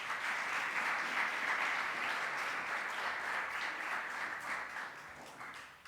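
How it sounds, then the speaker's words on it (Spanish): A church congregation applauds in a dense, steady wash of many hands clapping at once, sustained for about six seconds before easing slightly at the end. "Denle una ofrenda de palmas al Señor."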